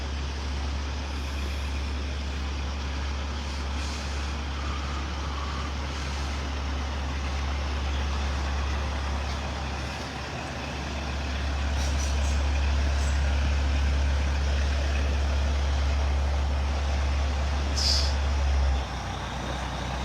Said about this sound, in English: You see a lot of these trucks in town now in Southwest Florida.